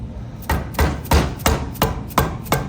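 A hammer taps a motorcycle axle to seat and align a wheel bearing sleeve during a wheel bearing install, about seven evenly spaced, close metallic knocks with no talking.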